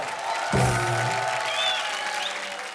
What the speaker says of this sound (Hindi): अरे जोरदार तालियां पार्वती के लिए।